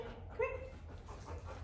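A leashed dog gives a single short bark followed by faint panting and whimpering, close by and otherwise quiet.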